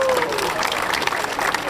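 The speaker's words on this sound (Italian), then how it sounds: "Un applauso per loro." A crowd applauds at an outdoor historical reenactment festival in Nettuno, with brisk clapping mixed with a voice and crowd murmur.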